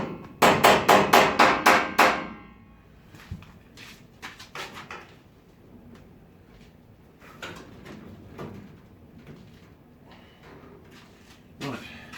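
A hammer beats a car body panel on a MKV Cortina under restoration, a quick burst of about seven loud, close metallic blows, followed by scattered knocks and a final strike while people talk.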